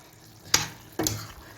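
Green beans with chickpeas and mince being stirred in a pot, two quick spoon scrapes with a soft sizzle and bubbling underneath, close and fairly loud, no talking.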